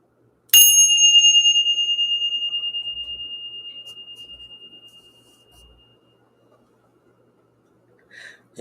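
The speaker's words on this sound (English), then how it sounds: "We're going to ring the bell." A single bright bell is struck once and rings out clearly, its pure tone slowly fading over several seconds in a quiet room.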